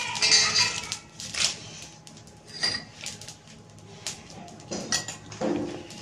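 Stone flower spice tipped into a pan for dry roasting: light clinks and scrapes of a utensil against the metal pan with small rustling bursts, close and moderately loud, with no talking.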